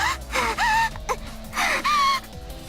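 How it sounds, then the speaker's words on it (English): A girl breathing hard after a fast run through a clearing, giving loud, close gasping breaths with strained, moaning vocal tones in two bursts separated by short pauses. "Ilya's the one breathing hard."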